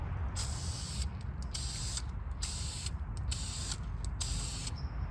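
Aerosol spray paint goes onto the brake calipers of a Mazda 3 in short hissing bursts, about six close sprays with brief pauses between them, over a steady low background rumble.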